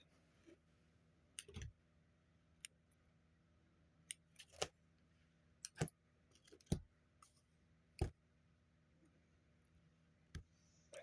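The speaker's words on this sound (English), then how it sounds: "Scissors are kind of dull from using them so much." Dull scissors snip embroidery threads beside a Janome Memory Craft 300E machine, giving a quiet, irregular series of sharp clicks and snips, about a dozen spread across the stretch.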